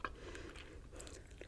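Bubble gum is chewed close up, with soft wet smacking and squelching in an irregular rhythm, quiet and intimate with no talking.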